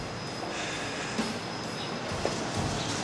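A train passes in a steady, continuous rumble and rush of wheels on rail, fairly loud and even throughout, with no talking.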